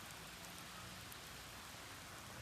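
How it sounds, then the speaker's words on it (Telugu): Heavy rain pouring down outdoors, a faint, unbroken hiss of drops on surfaces with no other sounds. "చూడండి అసలు ఎంత ఘోరంగా పడుతుంది వర్షం"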